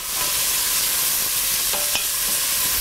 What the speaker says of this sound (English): My spices, my seasonings. Stir that around.